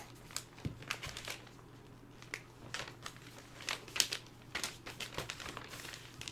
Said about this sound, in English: I'm going to put one more tiny piece of tape here